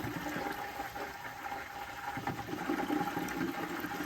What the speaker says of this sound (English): we're going to do this until the water stops bubbling like this